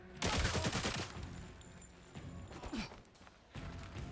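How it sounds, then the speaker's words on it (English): Gunfire in a James Bond video game, an opening rapid burst of shots followed by scattered thumps and further volleys under game sound effects. "Where's shots coming from?"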